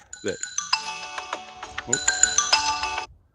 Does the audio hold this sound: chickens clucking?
no